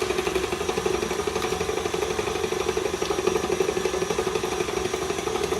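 Steady, loud whirring of an electric mixer whipping, a continuous motor drone with no pauses and no voices.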